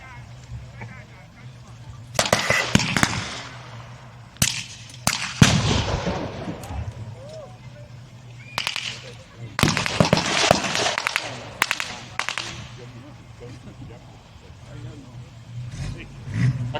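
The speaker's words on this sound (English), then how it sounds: "They're still firing back." Gunfire crackles across a World War II battle reenactment between American and German sides in Usk, South Wales, with sharp shots in scattered bursts, some clustered rapidly, over a low steady hum.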